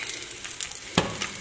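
Egg frying in oil in a pan, a steady close sizzle with a brief louder crackle near the middle.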